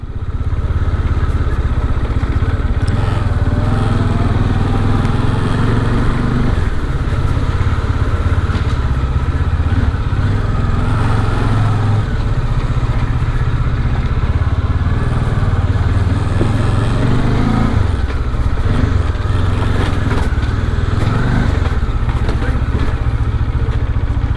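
A motorcycle engine runs steadily in a parking area at a Jaisalmer guesthouse, with a low continuous rumble and some clatter throughout, loud and close, with faint voices in the background.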